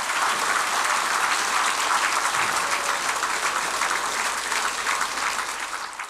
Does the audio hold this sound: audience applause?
yes